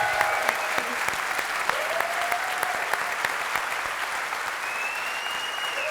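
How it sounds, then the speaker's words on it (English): Audience applause for a speaker, Chido Goverra, steady and even across the whole stretch, with a few individual claps standing out and faint tones and voices in the background. "I think we need another applause for Chido"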